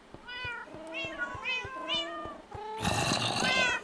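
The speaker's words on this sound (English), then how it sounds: "Meow, meow, meow." A run of repeated cat meows from cats in a video game, in quick succession, close and clear, ending in a louder, harsher burst of overlapping yowls.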